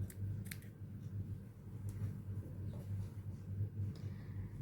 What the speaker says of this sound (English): You can just cut the excess yarn here